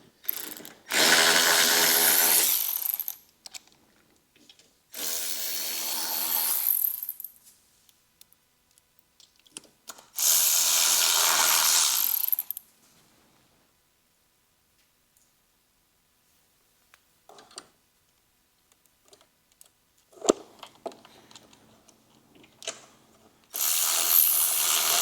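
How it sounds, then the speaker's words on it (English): A ratchet tightens the four fuel tank bolts on a 2022 Harley, with loud bursts of fast clicking spaced by pauses and a few isolated clicks between them; no talking. "So let's just finish tightening them up."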